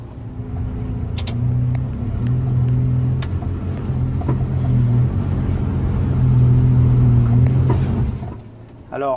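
Mercedes Arocs 2648 6x4 construction truck driving off-road over dirt with stones beneath, its diesel engine rumbling steadily and close, the tone rising and falling slightly with throttle, with occasional clicks and knocks from the cab.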